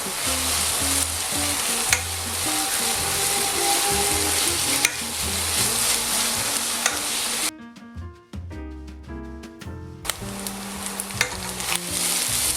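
Rice with minced meat and vegetables fries in a pan, a continuous loud sizzle broken by scraping stirs and clattering utensil knocks, with a brief sharper clinking passage midway.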